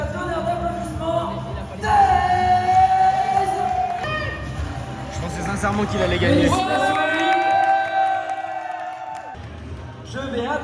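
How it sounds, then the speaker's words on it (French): A crowd cheers and applauds at a freestyle competition podium ceremony, a loud sustained roar of voices and clapping under a speaker's amplified talk throughout. "je viendrai s'il vous plaît avec un tonnerre d'applaudissements."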